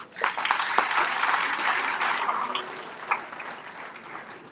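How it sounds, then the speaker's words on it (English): At a public service summit opening ceremony, a crowd gives a hearty round of applause for youth performers, dense clapping with sharp individual claps that swells quickly and tapers off over a few seconds. "So a big round of applause for our youth that's here."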